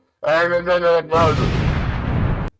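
Explosion in the Pokémon Uranium video game: a loud, harmonic shouting voice comes first, then a sudden, loud broadband blast that roars steadily for over a second before cutting off abruptly.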